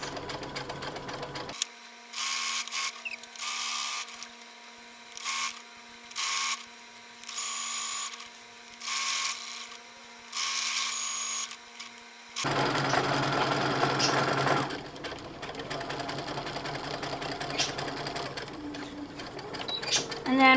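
A sewing machine stitches the side seams of a dirndl skirt in a series of short, regular bursts with brief pauses between them, followed by looser handling sounds and a voice talking.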